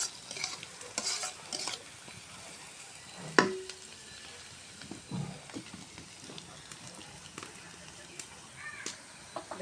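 Onions frying in oil in a pan until browned, for an egg and lentil curry, heard as a low, steady sizzle with scattered stirring scrapes and one sharp clink, fairly quiet throughout.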